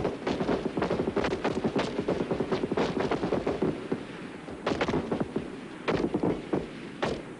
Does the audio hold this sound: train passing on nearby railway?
no